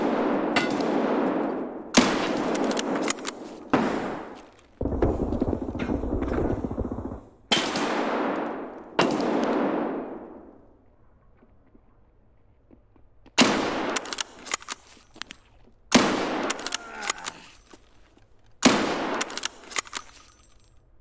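Bolt-action rifle shots in the game Escape from Tarkov ring out as loud, close reports, several in a row with long pauses between them, each one trailing off in a decaying echo.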